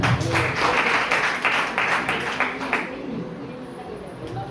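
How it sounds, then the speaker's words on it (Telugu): A church congregation at a Sunday service clapping together, a dense burst of applause for about three seconds that then fades out into quiet room sound. "చప్పట్లు కొడదాము."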